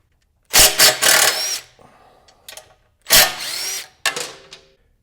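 A power drill over-drilling bolt holes in the frame rails of a Yamaha T7 motorcycle for a skid plate: two loud, close bursts of whining drilling, each followed by quieter bit rattle and handling noise.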